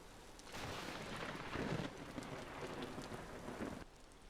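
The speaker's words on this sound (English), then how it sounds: "As the rain pelts down, and we had quite the thunderstorm last night" Steady heavy rain pelts down in the Vintage Story game world, a dense continuous hiss with a few swells in intensity and soft rumbles beneath, then an abrupt drop near the end.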